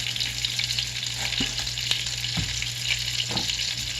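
A flour roux for Mornay sauce cooks in a pan with a dense, even sizzle that runs unbroken from start to finish, marked by a few faint taps from a utensil.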